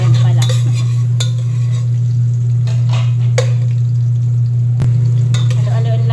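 Garlic and ginger sizzle steadily in a frying pan while a utensil stirs and scrapes, giving a handful of sharp clinks against the pan over a constant loud frying hiss and low hum; no one speaks.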